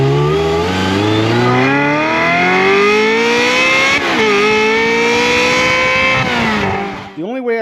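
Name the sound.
Ferrari F355 engine and exhaust running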